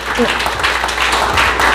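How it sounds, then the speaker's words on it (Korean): Attendees of a regional education forum at a teachers' federation hall clap warmly for the speakers and guests, a brief, loud burst of crowd applause with voices mixed in. "뜨거운 박수 부탁드리겠습니다"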